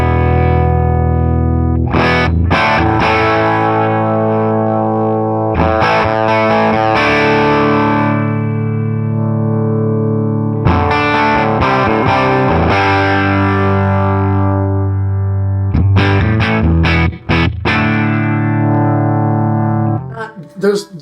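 An electric guitar through a HOD Orange Two-Stroke EQ pedal plays loud, sustained distorted chords, strummed in bursts with ringing holds between them and a sharp cutoff near the end.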